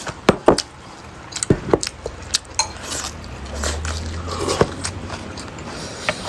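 Crunchy pickled vegetables, atsara served with fish, are bitten and chewed up close in a series of sharp crisp crunches with brief pauses between them, and faint utensil clinks sound now and then.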